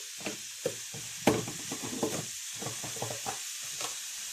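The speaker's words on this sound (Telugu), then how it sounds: "మసాలాలు మొత్తం మునక్కాయలకు పట్టేలాగా బాగా కలుపుకోండి" Drumsticks and tomato curry coated in masala being stirred in a pan, a run of close scraping strokes with gentle sizzling between them, irregular and fairly loud, without speech.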